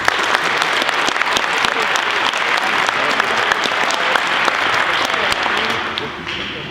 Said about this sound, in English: give each one of these kids a round of applause right now